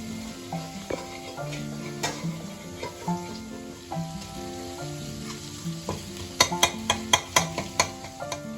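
Garlic sizzling in a pan on a Kolkata street food truck, steady frying hiss with a few sharp metallic utensil clinks toward the end, close and alone.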